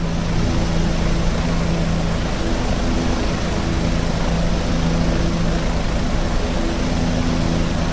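Steady engine and rotor drone of a Bell 407 helicopter in the X-Plane 11 flight simulator, cruising on autopilot, loud and constant with no break and no speech.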